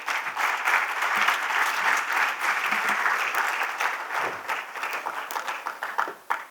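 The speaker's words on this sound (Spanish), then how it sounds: "Lo recibimos con un fuerte aplauso esta mañana" A conference audience gives a speaker a loud round of applause, dense clapping that holds strongly for several seconds and then thins into scattered claps before ending.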